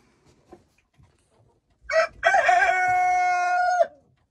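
A rooster crows once inside a chicken enclosure with a long, loud, clear cock-a-doodle-doo. Faint rustling and soft clucks come before it.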